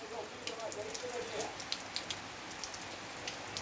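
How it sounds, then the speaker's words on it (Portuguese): Moderate rain falling steadily overnight in the sertão of Nordestina, Bahia, a soft continuous hiss with scattered close drips and taps, no speech. "Chuva moderada, boa."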